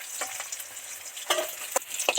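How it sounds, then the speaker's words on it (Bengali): Deep-fried catla fish pieces being lifted from hot oil: a soft background sizzle broken by several sharp clinks and scrapes of a utensil against the pan. "মাছগুলো সব ডিপ ফ্রাই করে ভাজা হয়ে গেছে এবার তেল থেকে উঠিয়ে নিচ্ছি"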